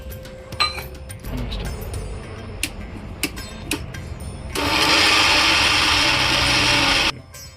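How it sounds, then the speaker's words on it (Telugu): A kitchen mixer grinder blends sugar for a cake batter. After soft clatter and taps, the motor starts in a loud, steady high whine that runs for about three seconds and then cuts off sharply. "ఇలా మిక్సీతో మెత్తగా గ్రైండ్ చేసుకోవాలి"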